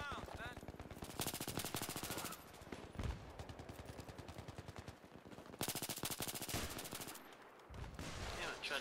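Sustained automatic gunfire in the first-person shooter Battlefield 3, with near-continuous loud rapid bursts and a few brief pauses, alongside other battle noise.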